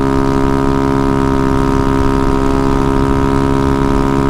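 A Honda Ruckus scooter tuned with Met Gears and a 4-inch extra stretch runs at speed, its engine holding a loud, steady, buzzing drone without breaks for the whole stretch, with no voices.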